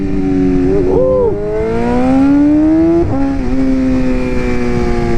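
A BMW M1000RR motorcycle with a BT Moto Stage 2 ECU tune revs loudly up close, engine pitch climbing in two sharp blips between sustained high revving.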